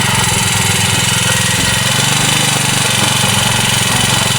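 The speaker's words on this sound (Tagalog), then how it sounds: "napaandar na po ni Tatay Henry yung grass cutter" A grass cutter's small motor runs steadily on a mountainside after being started, a loud, continuous buzzing drone with no pauses.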